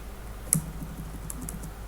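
Typing on a computer keyboard with light, quick key taps scattered across two seconds, including one sharper click early on, close and fairly quiet with no talking.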